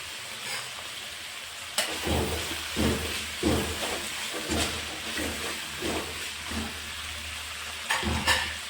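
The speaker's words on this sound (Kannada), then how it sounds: "ಈರುಳ್ಳಿ ಚೆನ್ನಾಗಿ ಬ್ರೌನ್ ಕಲರ್ ಬರೋವರೆಗೂ ಸ್ವಲ್ಪ ಚೆನ್ನಾಗಿ ಬೇಯಬೇಕು ಬ್ರೌನ್ ಕಲರ್ ಬರಬೇಕು ಆ ಥರ ಫ್ರೈ ಮಾಡ್ಕೋಬೇಕು" Onions fry in a pan for rava upma (uppittu), with a continuous hiss and sizzle broken by regular rhythmic scraping strokes of a spatula stirring them.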